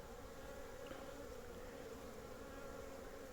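Dense swarm of honeybees flying busily around a hive on a warm spring-like day, a steady, even buzzing hum with no talk.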